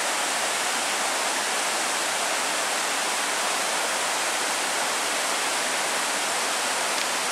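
Mingo Creek near Cherokee, North Carolina, rushes in a steady, loud, unbroken wash of flowing water on an icy trail, with no other sounds.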